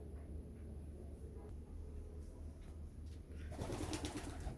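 Maxi-coloured pigeons coo softly in a loft where some birds sit on eggs and others tend chicks, the calls faint beneath a steady low hum and background noise.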